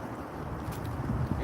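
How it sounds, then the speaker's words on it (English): Heavy, rumbling wind buffets the microphone continuously, with gusty low-end roar throughout. "the wind is blowing like hell"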